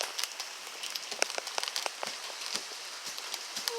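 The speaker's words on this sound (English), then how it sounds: "Now it's raining again! Now it's pouring." Heavy rain pours during a thunderstorm, a dense steady patter with individual drops crackling sharply on nearby surfaces; no voices.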